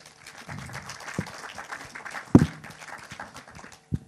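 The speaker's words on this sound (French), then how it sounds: "Vous pouvez les applaudir." An audience at a short-film festival meeting gives a light, scattered round of applause, with individual claps sounding unevenly at a moderate distance.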